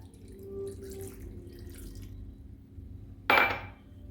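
Plain water poured into a pressure cooker over salt, turmeric and chilli powder, giving a short, close splash of liquid after a stretch of quiet kitchen background.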